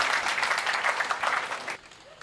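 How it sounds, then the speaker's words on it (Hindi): Enthusiastic applause from an audience filling a hall, dense steady clapping that carries on for about two seconds and then cuts off abruptly. "मैं पूरे सदन से उनके लिए एक बार जोरदार तालियों की उम्मीद करता हूं।"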